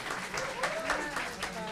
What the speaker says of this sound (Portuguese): Palmas para ela, gente.